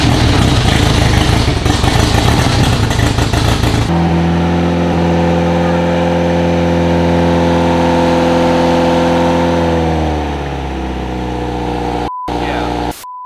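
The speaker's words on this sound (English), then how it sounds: "engine sounds super healthy" A project car's engine cranks and fires up for its first run, then settles into a loud, steady idle with a deep harmonic drone that drops slightly in pitch near the end.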